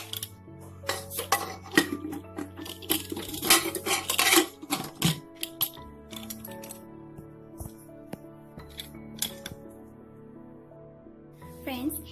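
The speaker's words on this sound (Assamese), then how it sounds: "আৰু এতিয়া মই প্ৰেসাৰ কুকাৰ ঢাকনখন বন্ধ কৰি দিম" Metal clatter of a pressure cooker lid being fitted and closed in a home kitchen, with a string of sharp clinks and knocks, busiest in the first five seconds, then sparser taps; no speech.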